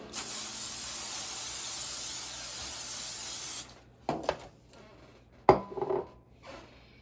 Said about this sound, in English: I'm going to spray it with my olive oil.